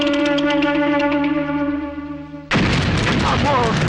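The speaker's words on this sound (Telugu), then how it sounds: "డమ్మీ పేలినప్పుడు ఇంత భయపడితే ఒరిజినల్ పేలినప్పుడు చచ్చిపోతాయేమో" A dummy bomb goes off in a Telugu film scene: a sustained tonal music or voice passage cuts abruptly into a loud, broadband burst of blast noise and rumbling debris that carries on to the end.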